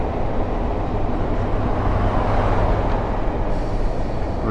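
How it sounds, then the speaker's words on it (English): In the Train Sim World 6 game on the Cardiff City Network, a train passes the other way as a steady loud rumbling roar of rail noise that holds for several seconds without voices. "The train coming the other way."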